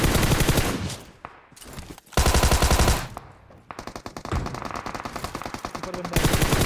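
Automatic gunfire bursts in PUBG Mobile, loud rapid rattling volleys separated by short gaps, with sustained fast-firing stretches and no talk over them.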